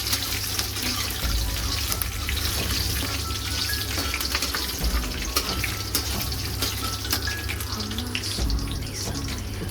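Mustard seeds and curry leaves spluttering and crackling in hot oil in a Tamil home kitchen, a loud continuous sizzle with sharp pops scattered throughout, no voices.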